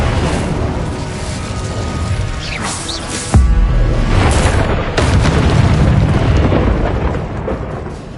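A Confringo fire spell from a Harry Potter video game goes off as a loud, close blast with a deep booming impact and crashing debris, layered over a dense rumbling game soundscape.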